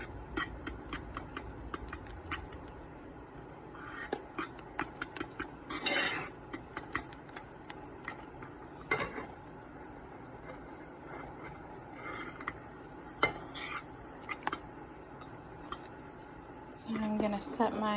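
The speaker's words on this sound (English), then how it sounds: "we really need to get all of that cocoa mixed in there really well" A utensil stirs a cocoa fudge mixture of sugar, almond milk and cocoa powder in a pot nearing a boil, giving quiet, irregular scraping and tapping clicks against the metal, mostly faint with occasional louder knocks.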